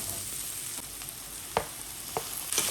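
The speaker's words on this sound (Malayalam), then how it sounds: "ഇനി നമുക്ക് ഈ ടൊമാറ്റോയും കൂടെ ഒന്ന് വഴറ്റിയെടുക്കാം" Onion and tomato sauté in a pan for a fish roast, giving a steady soft sizzle with a few sharp spatula clicks and scrapes against the pan. No one speaks.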